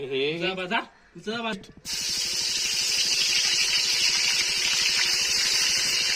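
Hot oil sizzles steadily and loudly in a pan while chicken is being cooked for a party with friends, a continuous bright hiss after a brief stretch of talk at the start.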